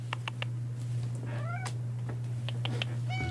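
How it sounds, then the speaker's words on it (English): A cat meows several times, short rising-and-falling calls repeated over a steady low electrical hum indoors, fairly close and moderately loud. "we got a cat"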